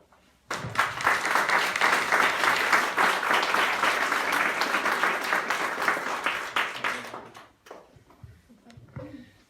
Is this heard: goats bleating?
no